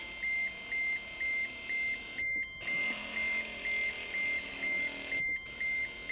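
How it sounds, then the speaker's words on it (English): A steady car ignition warning chime beeps in an even rhythm, about twice a second, continuing throughout over a faint background hum, during an MG window motor test. "excuse the beeping"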